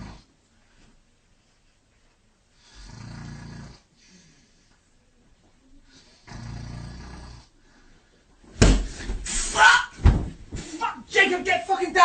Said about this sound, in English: He's been snoring for hours and I can't fucking sleep.